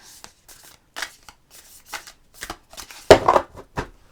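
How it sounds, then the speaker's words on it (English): Playing cards are shuffled and scattered across a surface in a quiet room, giving soft scattered flicks and rustles with one louder riffling burst near the end. "I'm splattering cards and things all over the place"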